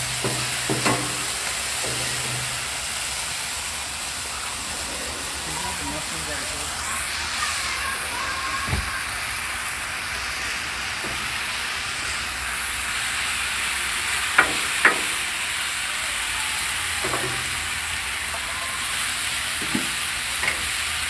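Bacon-fried corn sizzles steadily on a Blackstone griddle, a constant frying hiss with a few sharp scrape clicks from a spatula, while people talk faintly nearby.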